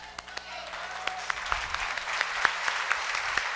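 A church congregation claps during a sermon, a fairly faint, scattered applause with distinct individual claps over a low hum.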